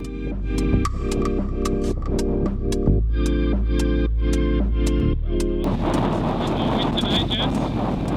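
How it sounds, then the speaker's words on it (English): Wind blowing across a catamaran sailboat at sea off Australia's east coast; music with steady beats plays first, then a broad, rushing wind roar takes over for the last few seconds. "More wind."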